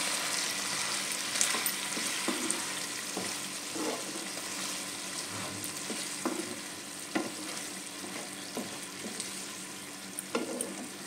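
Chili chicken with spices, salt and sugar being stirred in a frying pan gives a steady soft sizzle, with scattered scraping clicks of a utensil against the pan, fairly faint and without talk.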